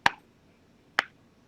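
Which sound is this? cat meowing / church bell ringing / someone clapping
someone clapping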